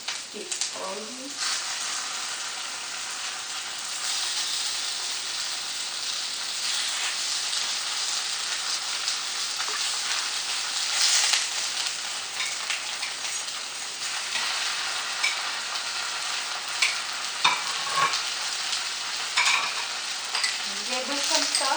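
Potato pierogi sizzle and crackle steadily in a hot frying pan, a loud continuous hiss with occasional scrapes and clinks as they are stirred, no talking.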